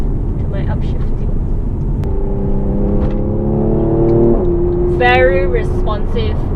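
A 2018 Mercedes AMG C43 engine revs with a rising whine, then drops pitch sharply as it upshifts and climbs again. It is loud and close inside the cabin, with someone talking over it.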